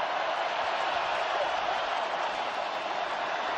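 Steady, dense roar of a stadium crowd at an NFL game between the Denver Broncos and Houston Texans, a loud continuous wash of massed voices with no breaks over the whole stretch.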